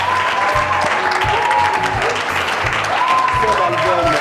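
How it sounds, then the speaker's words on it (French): Studio audience applauding for a musician, loud sustained clapping with cheering voices and talk layered over it and low thumps underneath. "j'aimerais qu'on applaudisse pour lui"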